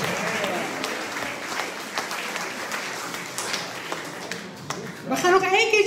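Jazz club audience applause at a quintet concert, continuous clapping at moderate volume, with a voice and brief melodic tones breaking in near the end.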